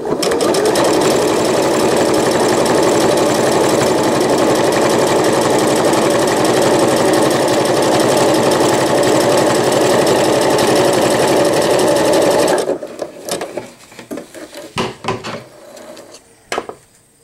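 A sewing machine zigzag-stitches a reusable fabric nursing pad in a loud, continuous close whir that runs for about twelve seconds, then stops and leaves scattered handling clicks and taps.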